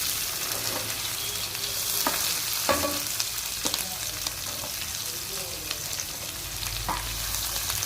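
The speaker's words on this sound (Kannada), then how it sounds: "ಈಗ ಬೆಂದಿಬೇವು, ಈರುಳ್ಳಿ, ಮೆಣಸಿನ್ಕಾಯಿ ಹಾಕೋಣ." Onions, curry leaves and green chillies frying in a tempering for mango avalakki upma, a continuous close sizzle broken by several sharp stirring scrapes, with no one speaking.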